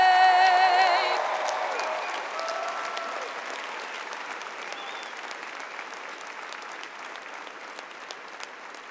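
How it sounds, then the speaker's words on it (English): A graduate commencement audience at Adelphi University breaks into applause for singer Abigail right after the national anthem, as the song's final sustained note fades under a broad wash of clapping that slowly thins over nine seconds. "Let's give her one more round of applause"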